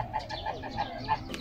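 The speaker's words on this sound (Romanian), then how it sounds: "Ia uite un cocoș pitic și cu o găină pitică." Bantam rooster and hen clucking in a park, soft repeated clucks in a quick, even rhythm of four short calls, close and moderately quiet.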